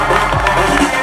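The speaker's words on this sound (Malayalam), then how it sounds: "ഒരു നല്ല കയ്യടി എടുത്തുകൊണ്ട്." Crowd cheering and clapping at the Nadikar movie trailer launch event, a loud continuous wash of audience noise filling the whole moment without a break.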